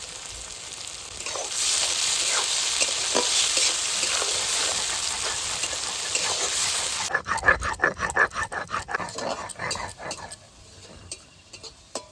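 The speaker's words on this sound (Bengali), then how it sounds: "পেঁয়াজটা একটু ভেজে নিয়েছি" Onions frying in a pan with bay leaf and whole cumin give a steady close sizzle for about seven seconds, then it cuts to a quieter stretch of sharp irregular clicks and pops.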